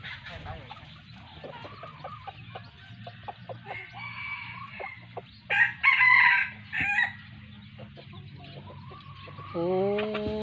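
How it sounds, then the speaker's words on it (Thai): A wild red junglefowl rooster crows in a rural outdoor setting, its loud, clear call rising midway and repeating in bursts over a steady low background hum, with another crow starting near the end. "แล้วไก่ป่าตัวนึงมันขันอยู่ไหนนะ"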